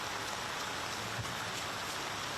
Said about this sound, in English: Rain coming down heavily now.